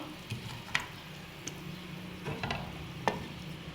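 Okra and string beans being stirred in a cooking pan, a soft sizzle broken by a few scattered scrapes and clicks of the utensil, close and fairly quiet.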